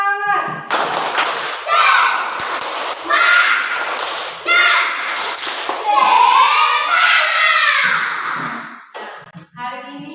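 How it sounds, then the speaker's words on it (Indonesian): Schoolchildren in a classroom do a 'tepuk semangat' spirit clap, with bursts of rhythmic hand claps and thumps mixed with loud chanting young voices over several seconds. "tepuk semangat."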